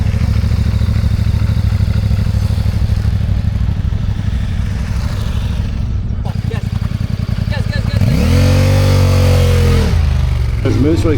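A trail motorcycle engine drones steadily and loudly with wind rush, then revs up sharply as throttle is applied near the end, its pitch climbing and falling close by.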